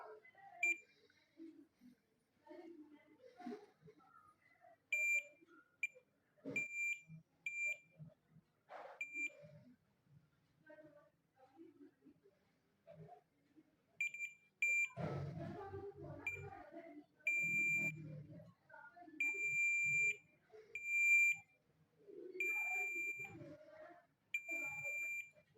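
Repeated short electronic beeps from a multimeter's continuity test on the starter motor armature of a Suzuki GS, sounding in bursts across the commutator points, mixed with handling clatter and quiet voices.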